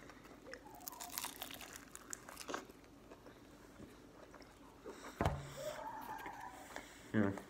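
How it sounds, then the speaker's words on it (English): Crunchy crust of cold, salty deli fried chicken being bitten and chewed up close, with soft crunches building to two sharper crackling bites near the end over a faint background hum. "Chicken's fine, actual chicken, but the crust is crunchy."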